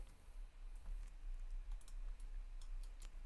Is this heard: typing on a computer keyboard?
yes